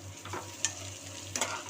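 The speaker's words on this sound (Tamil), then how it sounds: "நல்லா எண்ணெயிலே ஃப்ரை பண்ணிக்கலாம்." Beans, carrot and cabbage frying in hot oil for egg rice, a steady low sizzle with two brief sharper stirring scrapes, close and moderately quiet with no talk.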